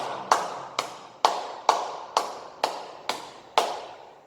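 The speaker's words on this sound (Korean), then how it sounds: "우리 다 같이 주님께 영광의 박수 올려드리겠습니다." A church congregation claps in unison during a worship service, giving eight sharp, evenly spaced claps about half a second apart. Each clap rings briefly in the room, and no one speaks over them.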